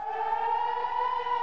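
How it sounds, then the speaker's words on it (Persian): An air raid siren sounds over an Israeli city such as Tel Aviv, holding one steady, piercing tone throughout. "صدای آژیر در شهرهای بزرگ اسرائیل مانند تل آویو شنیده می‌شود"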